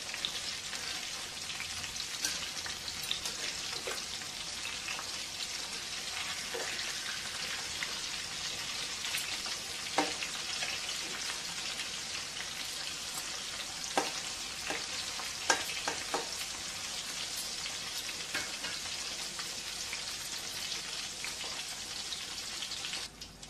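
Stuffed pointed gourd (parwal) filled with besan masala sizzles and crackles steadily in a pan, with occasional soft scrapes and knocks as the pieces are turned.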